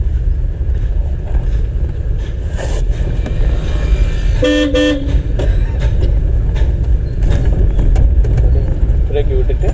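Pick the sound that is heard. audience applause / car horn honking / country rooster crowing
car horn honking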